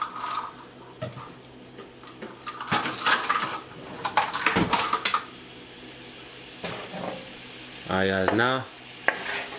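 Chicken hibachi gets stirred and tossed in a hot pan, with scraping clatter and bursts of sizzle across the clip. A voice speaks briefly near the start, and a louder, harmonic scrape or squeal rises near the end.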